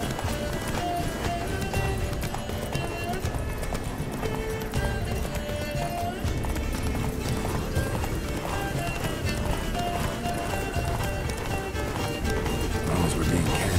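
Roach, Geralt's horse in The Witcher 3, gallops with steady clip-clop hoofbeats and occasional whinnies over a dense game soundtrack of music and effects, continuous and loud throughout.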